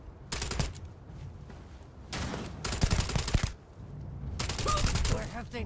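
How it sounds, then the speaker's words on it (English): Shotgun blasts and gunfire in the video game Starfield come in several loud clustered volleys separated by short lulls, with some faint game sounds between. "Don't know what Andresia's firing with, but oh, a shotgun."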